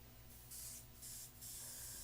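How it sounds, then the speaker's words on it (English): An airbrush sprays airbrush cleaner in about three short hissing bursts separated by brief pauses. The bursts are close, quiet and crisp. "We're going to run a little airbrush cleaner through it to make sure that it's going to spray properly."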